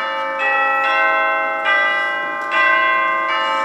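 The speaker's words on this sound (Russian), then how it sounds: "Тут, в высоком белом здании, зазвонили колокола." Church bells ring from a tall white building, rich sustained tones swelling in three or four successive strikes, each bloom ringing on and overlapping the last, loud and clear with no voices.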